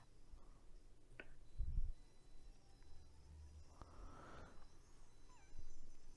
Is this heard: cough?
no